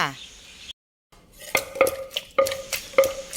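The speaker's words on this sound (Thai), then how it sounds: "จัดการโคเลโคเลให้เข้ากันแบบนี้เลยค่ะ" Som tum dressing of palm sugar, fish sauce and lime is stirred in a mortar, a run of close, sharp clinks and scrapes from a spoon after a brief silence, with no one talking.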